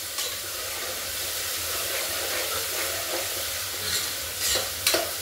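Onions fry in a pan with a constant close sizzling hiss, while a spoon stirs and scrapes, giving a few louder clattering strokes near the end; no one speaks.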